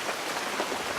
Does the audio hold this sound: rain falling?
yes